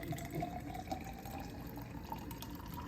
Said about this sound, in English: you pour it into the biggest and slimmest shot glass you can find.